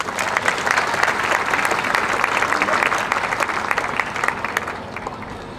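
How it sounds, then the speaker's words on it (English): A community fair crowd at a West Lampeter Fair Queen program applauds in a full, even wash of clapping that eases off slightly toward the end, with no speech over it. "Please give them a round of applause."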